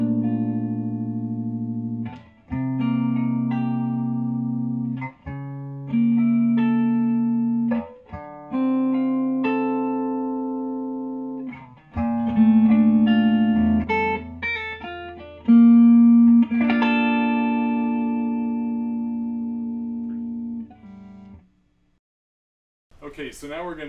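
A Marchione 59 Burst electric guitar with a Marchione tremolo plays clean through a stock Fender Deluxe Reverb amp, ringing chords and single notes struck one after another, each decaying before the next.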